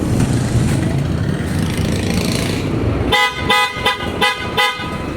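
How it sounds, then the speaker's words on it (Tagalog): Loud dual PIAA-style car horns on a Nissan Navara blare in a burst of several short honks after about three seconds of steady engine and street rumble. "Sound check natin yung tunog ng Pia Auto Style Horn."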